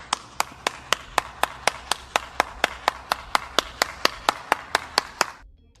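A single person claps slowly and deliberately, about twenty sharp, evenly spaced hand claps close up, ending abruptly in quiet.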